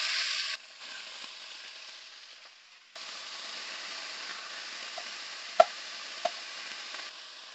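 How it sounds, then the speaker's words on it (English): Steak seasoned with salt and pepper browns in a pan, a soft, steady sizzle that drops quieter for a couple of seconds, then resumes with a few sharp pops and clicks. "So I'm going to start getting the steak browned"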